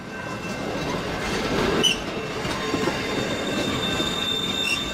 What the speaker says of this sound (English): Electric locomotive. Clean and quiet, this train runs on electricity, making it eco-friendly and super smooth.